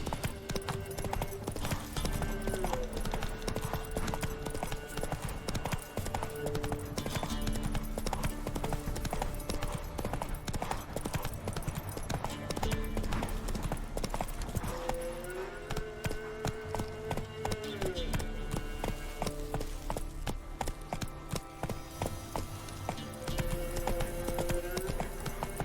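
Roach, the horse ridden in The Witcher 3: Wild Hunt, gallops with steady, rapid hoofbeats that continue throughout, set against game music, with brief voices joining at moments.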